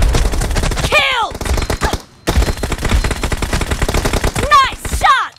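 Rapid gunfire rattles in a PUBG Mobile team deathmatch, loud automatic bursts with brief whizzing sweeps, a short pause, then more continuous shooting.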